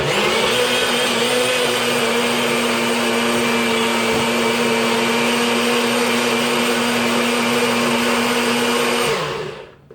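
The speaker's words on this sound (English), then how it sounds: "mix all of this up in our nutri-bullet" NutriBullet blender whirring keto bread batter, a steady loud whine that holds for about nine seconds before cutting off and winding down.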